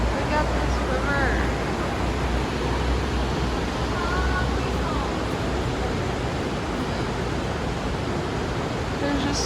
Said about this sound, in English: Look at this river.